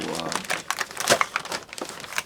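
Wrapping paper for a present being handled and cut, with crisp crinkling and rustling in short irregular bursts up close, under some faint talk.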